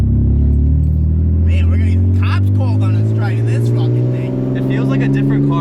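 A car with a loud aftermarket exhaust drones heavily from inside the cabin while driving, a deep steady rumble with people talking over it throughout.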